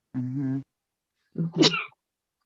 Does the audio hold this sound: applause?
no